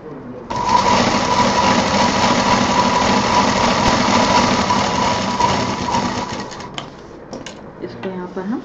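A sewing machine double-stitches a sling bag seam, running in one steady, loud, continuous whir with a constant mechanical hum. The run lasts about six seconds, then slows and stops with a few brief clicks.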